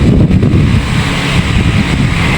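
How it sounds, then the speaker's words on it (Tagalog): Strong wind roars steadily into the microphone, a loud, constant rumbling buffet with no voices. "Mahangin, lakas ng hangin."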